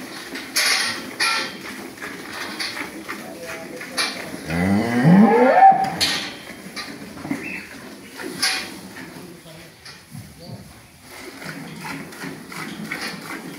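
A dairy cow on a farm lets out a loud, drawn-out moo in the middle, set against barn clatter and livestock noise, with people talking intermittently before and after.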